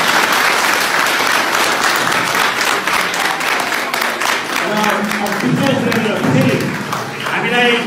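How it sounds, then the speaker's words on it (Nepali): Students at a school program give hearty applause to honor guests, a loud, dense, sustained clapping crowd filling the room, with a voice talking over it toward the end. "उहाँहरूलाई एकपटक सबै भाइ बहिनीहरूका तर्फबाट जोरदार तालीले सम्मान"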